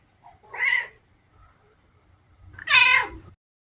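A cat meows twice, a short mew followed after a pause by a longer, louder meow, close and clear against a quiet background.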